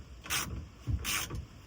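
Two close bursts of ratcheting from a wrench tightening loose bolts inside a truck camper on a Tacoma, each about a quarter second, with quiet handling between.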